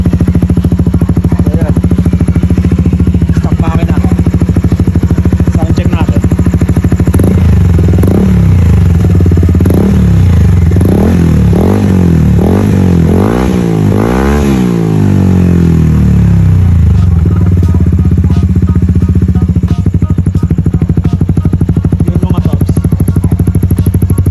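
A motorcycle fitted with a new 38mm short tip exhaust pipe idles loudly and close, then revs up in a series of rising and falling throttle blips mid-clip before settling back to a rough, pulsing idle.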